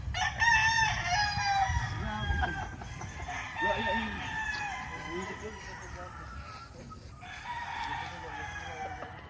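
A yellow-legged Dutch gamefowl rooster crows on a game farm, loud and near at the start, followed by clucking fowl and other birds in the background, with people talking throughout.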